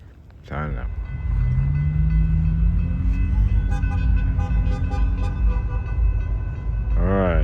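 A Norfolk Southern freight train rolls past close by, a loud steady roar of rail cars with sustained horn-like tones and squealing wheel noise, briefly framed by a voice at the start and end.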